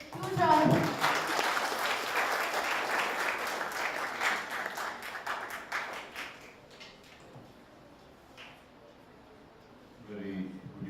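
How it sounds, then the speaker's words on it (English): An audience gives a warm round of applause welcoming a vice chancellor at an evening session on AI and the future of work. The clapping is dense at first, then thins and fades, and a voice briefly comes in at the end. "With a huge round of applause."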